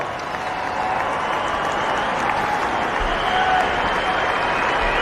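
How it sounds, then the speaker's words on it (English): A cricket stadium crowd at a one-day international between India and South Africa applauds a batsman's century, a steady, broad wash of clapping and crowd noise heard from a distance, continuous throughout. "Applause, well deserved."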